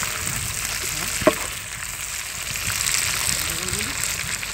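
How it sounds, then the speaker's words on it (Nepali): Local chicken sizzles and fries in a pan, Nepali style, with a steady crackling hiss, a sharp stir or clank partway through, and faint talk in the background. "फ्राई गर्ने तरिका"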